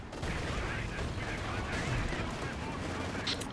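Explosions and gunfire in a tank battle game featuring a Tiger Ace, Panther and Croc, a faint, steady rumble of distant detonations and shots under a muffled bed of battle noise.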